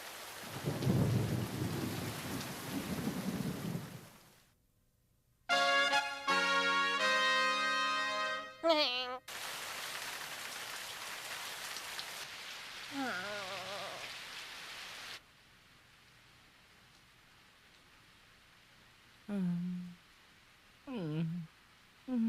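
Rain in a Tagalog-dubbed anime hisses heavily with rumbling thunder for several seconds before cutting away, followed by other sounds and short bursts of voices later on.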